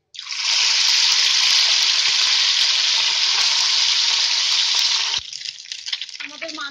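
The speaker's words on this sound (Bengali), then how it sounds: "আমরা এবার মাছগুলো ভেজে নেবো আস্তে আস্তে।" Salted, turmeric-rubbed maya fish hitting hot oil, a loud close sizzle that bursts in and holds steady for about five seconds, then drops to a softer crackle.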